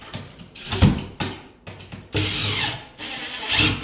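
A power drill drives a GRK screw into an upper kitchen cabinet during installation, with several short whirring bursts followed by a longer, steadier run near the end.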